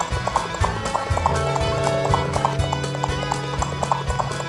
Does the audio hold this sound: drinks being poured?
no